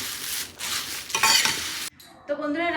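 Puffed rice (muri) dry-roasting in a pan, stirred in quick scraping bursts of rustling and crackle, broken by a brief pause before a final scrape; close and fairly loud, with no talking.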